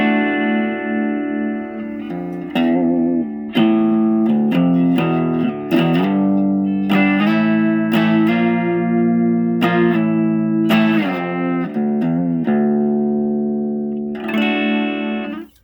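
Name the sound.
electric guitar through clean amp channel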